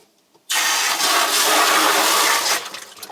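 Water gushes from a reverse-osmosis filter supply line under a kitchen sink in a sudden, loud, high-pressure rushing hiss that holds steady for about two seconds, then cuts off.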